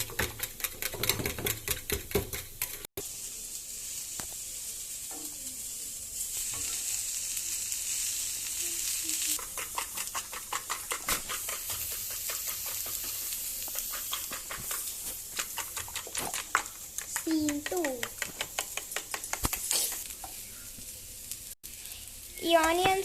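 Onions fry in a pan, making a steady crackling sizzle with dense popping throughout, fairly quiet and continuous, with faint occasional stirring scrapes.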